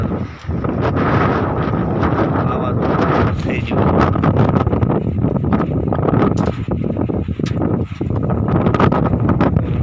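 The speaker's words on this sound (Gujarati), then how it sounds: "પવન બહુ છે વાવાઝોડા જેવું થઈ ગયું છે" Strong, storm-like gusts of wind buffet the microphone in a loud, continuous roar, with a voice speaking underneath, on a village rooftop with rattling metal sheets during unseasonal rain.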